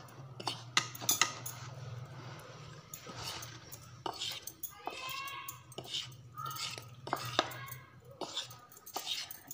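Metal spoon and fork clinking against a dish while fish fingers are rolled in coating, a run of light scattered clinks and scrapes close by over a low steady hum, with soft speech-like sounds in places.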